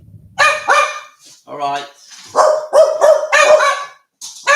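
A dog barks in a series of loud, close barks with whiny yips between them. Someone speaks briefly in the middle.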